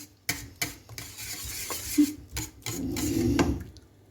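A spoon stirs a spoonful of butter into a hot chocolate milk pudding mixture in a pot with the heat off. Irregular scrapes and light clinks against the pot sound close, with no talking.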